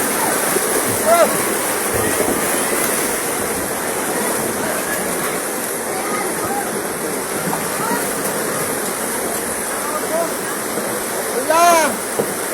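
Floodwater rushes and roars down a road in Antipolo City after a wall gave way, a loud continuous torrent with occasional splashes and brief shouts from people nearby.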